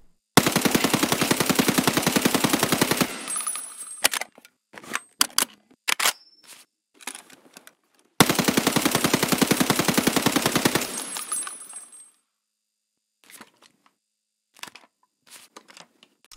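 A silenced SA-58 rifle fires in Escape From Tarkov in two long full-auto bursts of rapid suppressed shots, each followed by scattered clicks and handling rattles, loud and close with no talk.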